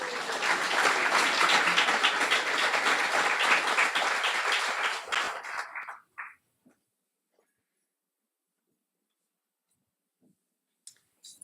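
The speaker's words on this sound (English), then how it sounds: "Big round of applause for everyone." Applause from an audience at a guide dog graduation ceremony: dense, enthusiastic clapping for about six seconds that fades out into near silence, with a few faint isolated sounds afterward.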